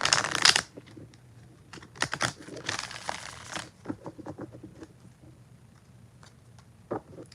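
Tarot cards are shuffled up close in a quiet room, with a burst of riffling at the start, more bursts around two to four seconds, then scattered soft card clicks and rustles.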